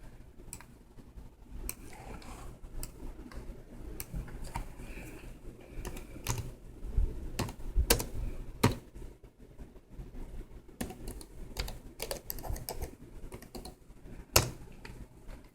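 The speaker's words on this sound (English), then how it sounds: "One day I'm going to be a really good typer with one hand." Someone types one-handed on a computer keyboard: irregular, uneven clicks and taps, close and fairly quiet, with short pauses between bursts.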